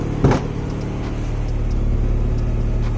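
A Honda Civic engine idles at about 1,000 to 1,100 rpm with a steady low rumble, after a brief knock at the start, no voices present.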